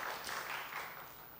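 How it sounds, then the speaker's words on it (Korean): A church congregation at a Sunday worship service applauds, a faint, brief wash of clapping that fades out. "우리 박수 한번 쳐주세요"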